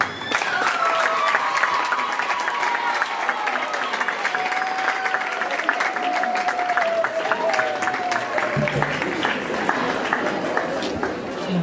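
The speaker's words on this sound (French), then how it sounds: "Que vos enfants vous applaudissent." Schoolchildren clapping together at a school group gathering, loud continuous applause with a whistle-like tone running through it, steady for most of the stretch before thinning slightly near the end.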